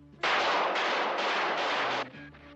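Cartoon gunfire from a bride shooting in a Batfink episode, a loud continuous rattling burst of rapid shots lasting about two seconds, heard alone.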